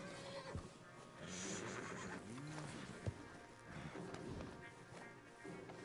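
A horse whinnies in a Western video game, a drawn-out neigh rising and falling, set against a faint ambient bed with a few soft thumps.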